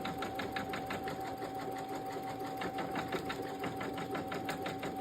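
A Brother Innovis embroidery machine fitted with a metal magnetic hoop stitches pink embroidery thread, its needle making a fast, steady mechanical chatter with a constant whine throughout, close and continuous.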